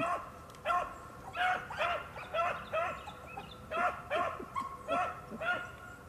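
Two hunting dogs, a black one and a brown and white one, bay and bark repeatedly while running a rabbit trail. The barks come in a rapid, uneven series at moderate distance, with faint outdoor background between them.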